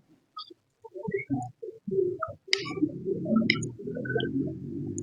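A high-flying breed pigeon coos up close in soft, throaty, repeated calls, with a few faint bird chirps in the background.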